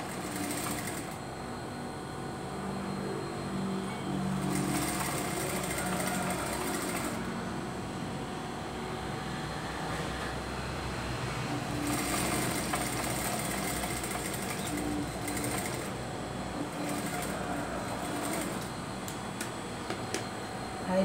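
Sewing machine running a finishing seam on an adult Wednesday Addams costume, a quiet steady mechanical hum with a few brief louder bursts of stitching, nearby in a room.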